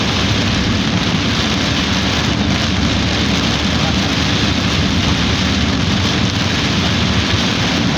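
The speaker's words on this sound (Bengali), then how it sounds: "দাদা বৃষ্টি প্রচুর পড়তেছে।" Heavy rain pours down steadily and loudly in Badarhat, Chattogram, a dense unbroken roar that fills the whole stretch, with no voices over it.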